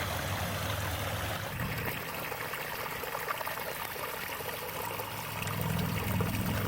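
Mountain stream in New Hampshire's White Mountains runs with a steady rushing, trickling wash of water, continuous and close, swelling slightly near the end.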